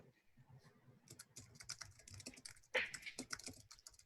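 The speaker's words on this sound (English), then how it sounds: "And the frantic typing begins." Quick, busy typing on a computer keyboard, with rapid key clicks piling up in uneven bursts and one sharper clack near the end. The sound is close but quiet.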